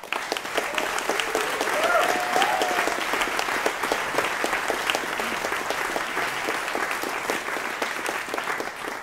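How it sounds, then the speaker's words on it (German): Sustained audience applause at a thank-you ceremony, steady and dense with a few faint whistles, holding even for about nine seconds before tapering slightly. "Dankeschön an Michael Bolt. Applaus"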